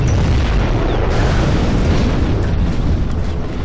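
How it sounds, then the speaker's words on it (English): Massive nuclear missile detonation in the real-time strategy game Command & Conquer Generals, a loud, sustained rumbling roar of a deadly impact that fills the whole stretch without letup. "Looks like China's actually launched a nuke on them."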